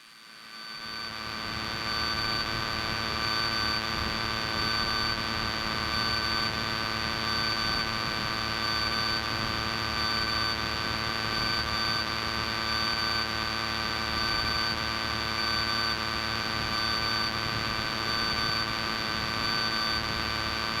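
A small airplane's engine drones steadily in flight, heard from inside the cabin as a loud, constant hum with strong tonal whine that builds up in the first seconds and then holds unchanged, with no talking.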